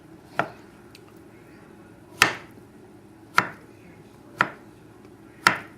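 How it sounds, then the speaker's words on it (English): A knife cutting through an avocado on a board, five sharp separate chops spaced a second or two apart, close and clear over quiet room tone. "The last thing you have to do is cut the avocado"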